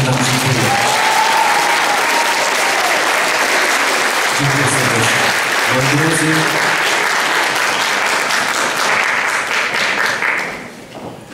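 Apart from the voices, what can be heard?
audience applause at Polish independence centenary event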